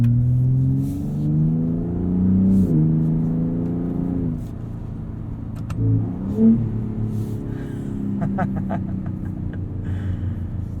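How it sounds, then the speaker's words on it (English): A 2021 Ford F-150 Raptor with the 37 Performance Package accelerates on a dirt road, its engine rising through gears in steady harmonic sweeps, close and loud from the cabin, with a brief shift dip midway. "Pretty quick for 0 to 60 on this truck."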